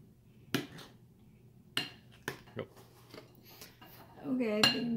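A utensil clinks and scrapes against a dish while lasagna ingredients are mixed, with a few sharp knocks spaced out over several seconds and a brief scraping burst at the end, with faint talk in the background.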